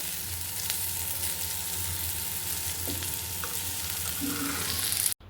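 Food frying in a pan in a home kitchen gives a steady, close sizzle with small crackles throughout, with no talking.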